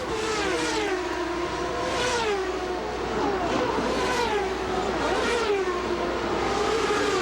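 Several 1994 CART IndyCar race cars scream past on the Vancouver street circuit, their high-pitched engines rising and falling in repeated Doppler sweeps as they brake, downshift and accelerate, loud and continuous with a thick roar underneath.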